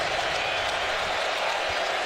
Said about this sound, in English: Crowd back on their feet.